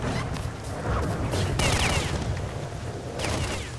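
Rapid gunfire in the video game STALKER: Shadow of Chernobyl, several loud close bursts of shots with sharp cracks and a heavier bang midway, fired through a tree during a firefight.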